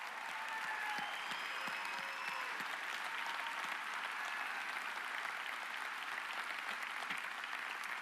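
Soft, distant applause from an audience at a live event honoring its speakers, the even clapping running the whole time while faint whistles and cheers rise above it early on.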